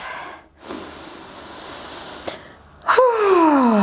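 A yoga practitioner lying on a mat takes a deep breath: a long, soft airy inhale of broadband breath noise, a brief catch, then a strong voiced exhale sigh sliding downward in pitch, close and alone.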